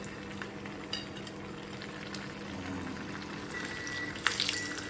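Tikoy, a sticky rice cake, sizzles steadily in hot oil in a pan, with a soft, even frying hiss and a few sharper pops and spatters near the end.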